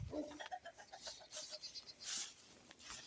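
Roosters cluck and call in a farmyard near an orchard, several short bird calls at varying distance over a quiet background.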